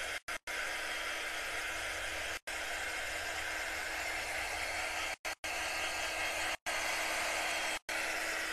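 A hair dryer blows a steady, breathy whoosh over chalk paint on a magnetic frame, cutting off briefly several times before resuming, close and moderately loud with no talk.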